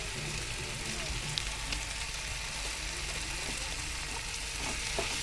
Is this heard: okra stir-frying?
yes